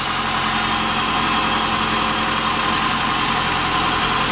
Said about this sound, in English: This is the engine of the Camry right here.